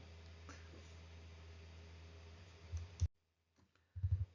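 A computer keyboard key is pressed while working in a spreadsheet. A couple of soft, close clicks sound against a quiet background hiss, and a short muffled tapping follows near the end.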